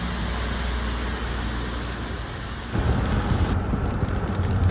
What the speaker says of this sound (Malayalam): ചുരം തുടങ്ങിയപ്പോൾ തൊട്ടുള്ള മഴയാണ്